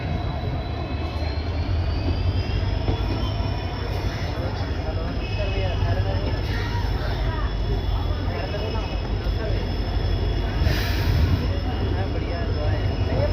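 The Kashipur–Bareilly City DEMU diesel multiple unit pulls away at Bareilly City station with a loud, steady engine roar and rising whine, while people talk nearby throughout.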